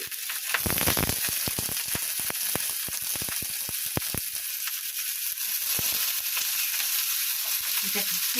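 Carrots frying in ghee in a pan for fried rice give a steady, close sizzle throughout, with sharp clicks and taps from stirring. No one speaks.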